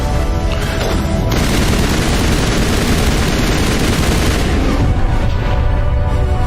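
Loud, dense gunfire in the shooter game Mass Effect Legendary Edition, a continuous roaring barrage of rapid shots and booms that fills the whole stretch without pause and sounds close and overwhelming.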